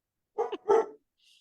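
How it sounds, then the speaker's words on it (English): A dog barks twice in quick succession, close and fairly loud, with a faint high yip trailing a moment later. "Oh, the dogs."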